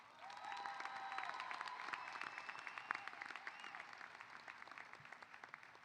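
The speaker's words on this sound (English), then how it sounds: "let's celebrate your families and friends with a very big round of applause." Sustained applause from a large crowd at a university commencement ceremony, steady dense clapping that swells early and holds throughout, with a faint whistle and some murmuring voices mixed in.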